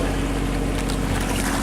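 A boat engine under power, ticking along steadily at about 1,800 revs without being pushed, on a coastal passage in Brittany toward Bénodet; a constant low droning hum with steady tone, close and continuous, with wind and water wash behind it.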